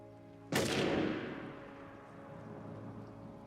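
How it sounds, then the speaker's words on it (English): A single loud gunshot in a 1974 film soundtrack cracks out and rings into a long reverberant tail, with a low background drone continuing beneath it. "And you hear the gunshot."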